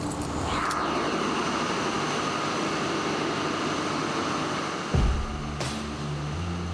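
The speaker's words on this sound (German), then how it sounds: "So, der Motor läuft, es wird jetzt einmal sehr laut für uns." An emergency power generator engine at Frankfurt Airport runs in an enclosed plant room, producing a loud, constant, broadband roar with a clunking shift in tone near the end.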